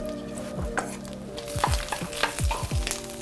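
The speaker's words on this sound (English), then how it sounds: "I'm gonna get those shrimp shells in this pan and get them toasted up." Shrimp shells toast in butter in a pan, a continuous crackling sizzle broken by repeated scraping strokes of a utensil stirring them, close and moderately loud.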